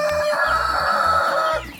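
A rooster crows once, loud and close, a long drawn-out call from a breeding flock of chickens, standing alone with no voices.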